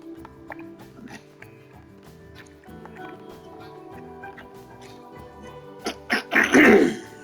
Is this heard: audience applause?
no